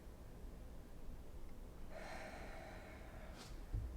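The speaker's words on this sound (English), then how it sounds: "I'm going to do a little bit of mouth breathing first before I tune in to breathing through the nose because I'm congested" Congested breathing through the mouth during a seated yoga pose with feet together and knees open, done while suffering a cold: a faint, close, raspy exhale rising midway and trailing off, followed by a short sharp snort-like intake.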